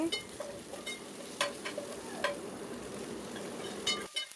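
Ginger garlic paste fries with onions in a pan, giving a steady soft sizzle throughout, broken by a few light spoon-on-pan clinks while the mix is stirred.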